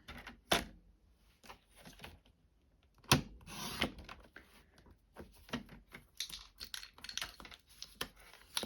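A paper trimmer cuts through cardstock while a small square is made for a handmade card, producing quiet, sharp clicks and a brief sliding rasp, close by with no talking.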